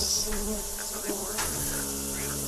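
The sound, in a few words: voice imitating insect buzzing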